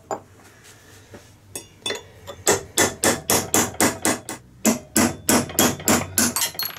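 Hammer strikes tapping an alternator bearing race off its shaft on a Mitsubishi/Mazda alternator, a fast run of about fifteen sharp metallic knocks, near and loud, after a few quieter hesitant taps.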